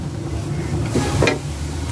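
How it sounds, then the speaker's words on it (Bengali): Chopped radish sizzles in two tablespoons of ghee in a pan, a steady close frying hiss broken by a couple of quick stirring scrapes over two seconds. "হালকা একটু ব্রাউন কালার করে ভেজে নেব।"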